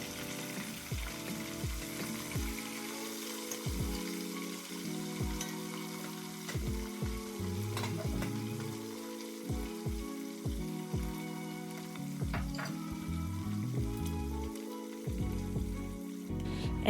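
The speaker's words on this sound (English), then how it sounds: "Now I'm frying the chicken for my stew. I'm doing this on medium to high heat." Chicken pieces fry in oil over medium-high heat for a stew, a continuous close sizzle broken by recurring stirring and scraping sounds in the pan throughout.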